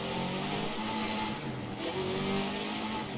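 Rally car engine in Colin McRae: DiRT 2 revs hard and steadily, its pitch rising and dipping through quick gear shifts. The drone is continuous and loud throughout with no talking.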